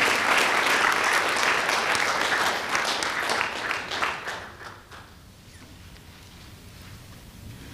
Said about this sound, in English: So please help me give a round of applause for the Honorable Judge Junius P.